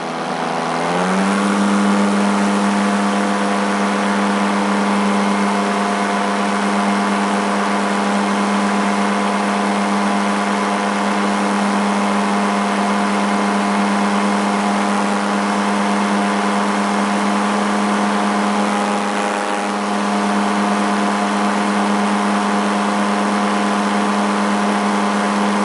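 A paramotor engine runs at full power during a climb, a loud, steady, close droning buzz with strong harmonics that rises quickly at the start and holds nearly constant, dipping briefly once near the end.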